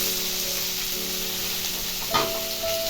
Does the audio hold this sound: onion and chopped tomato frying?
yes